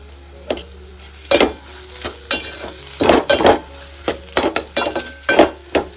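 Crab curry masala paste frying in oil: a low background sizzle punctuated by irregular, loud scrapes and knocks of a spoon stirring against the pan, close up and without speech.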